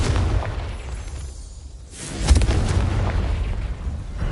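A Confringo spell blast in Hogwarts Legacy erupts as a loud, close, rumbling explosion that swells after a brief lull and keeps roaring with a crackling, debris-like tail, with no speech.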